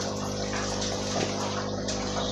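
Water churns and splashes steadily from an Oscar fish tank filter, a continuous close gushing flow with a low hum underneath, no voices.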